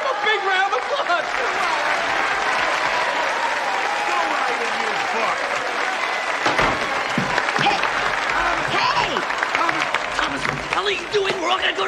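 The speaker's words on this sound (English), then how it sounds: "Give him a big round of applause!" Loud crowd applause fills a film scene, steady clapping and cheering throughout with voices shouting over it near the middle.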